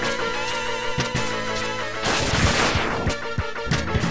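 A double charge shot from the X-Buster upgrade in Mega Man X2 fires as a loud burst of sweeping noise mid-clip, set over steady game music and clipped blaster hits.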